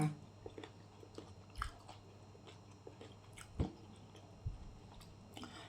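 Someone eating mushroom and bamboo shoot curry with soaked sticky rice and sun-dried fish, with soft close chewing, occasional crunchy bites and small clicks over quiet background, no talking.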